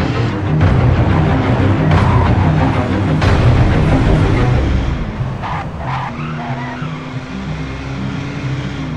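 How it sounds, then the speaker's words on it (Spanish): A motorcycle crash in GTA San Andreas: a loud, dense burst of engine roar and skidding tires, followed by a steadier whine as the noise settles. "¡Choco la moto!"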